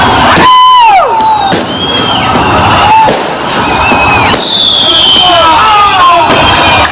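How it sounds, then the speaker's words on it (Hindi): Fireworks bursting during a celebration in Israel: loud, repeated bangs and whistling rockets close by, with a cheering crowd and voices throughout. "इजराइल में सबसे पहले आतिशबाजी होने लगी"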